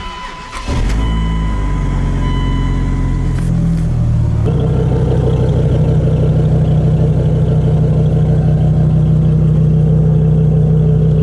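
A Dodge Ram V10 engine cranks and fires about a second in, then settles into a steady, loud, rumbling idle that carries on to the end with no talking.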